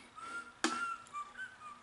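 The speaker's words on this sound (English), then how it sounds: "I heard somebody whistling." A faint tonal whistle from the principal character in the video game Baldi's Basics drifts through a quiet scene, interrupted by a sharp click partway through, then the soft wavering melody continues.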